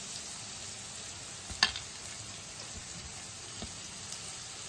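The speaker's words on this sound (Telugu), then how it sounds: "టమాటాలు కూడా ఇలా మగ్గిన తర్వాత మనం కట్ చేసి పెట్టుకున్న క్యారెట్ క్యాబేజీ ముక్కలు వేసుకుందాం" Carrot and cabbage pieces cooking with softened tomatoes in a pan for pasta give a soft, steady sizzle, with a brief louder clatter near the middle and no talking.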